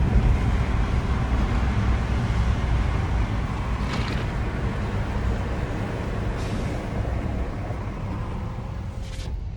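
Steady broadband road rumble and wind rush inside the cabin of a BYD Shark electric pickup truck while driving, continuous and fairly loud with no talk.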